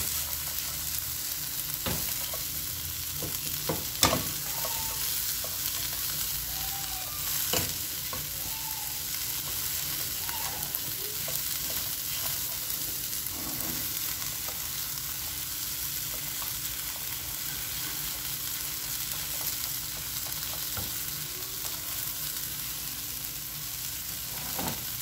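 Chopped onion fries steadily in a frying pan, giving a constant close sizzle with occasional sharp clicks and scrapes of stirring, and no voices.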